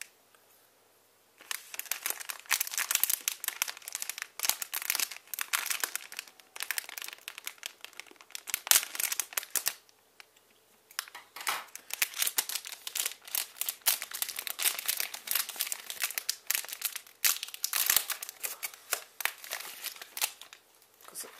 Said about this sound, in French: Je vais essayer d'ouvrir un booster correctement.